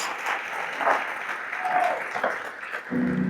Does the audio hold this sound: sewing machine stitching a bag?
no